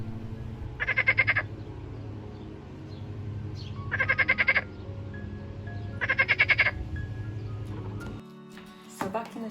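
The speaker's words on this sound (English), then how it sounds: "Hear the frogs?" Frogs croaking in a rose garden, three loud rhythmic bursts of rapid pulsed croaks separated by pauses, over a low outdoor hum, with a few faint bird chirps.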